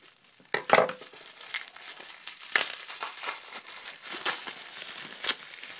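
Scissors cut open bubble wrap packaging, producing close crinkling, rustling and sharp crackling snips in irregular bursts, with louder crackles early and near the middle.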